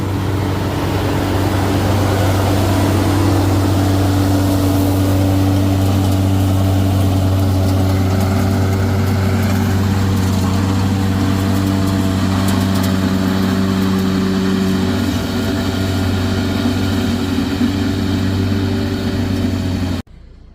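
A tractor engine runs steadily at close range on a garden farm, a loud, even idling drone with a deep rumble and a slight rise in pitch midway, continuing for about twenty seconds before cutting off.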